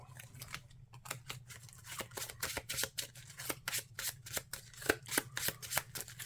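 Marvel Champions playing cards are shuffled back into a deck at close range, giving a quick, irregular run of crisp snaps and riffles that continues for several seconds without talk.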